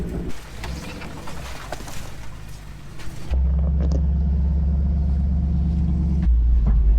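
A Jeep engine revs hard on a rough off-road trail climb, a loud, steady low rumble that swells into a heavier, sustained roar partway through, with faint bird chirps in the background.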